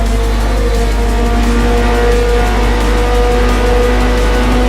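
Ferrari F430 GT race car in the racing game Forza Motorsport 4, its engine holding a steady loud drone with a faint tire squeal as it drives.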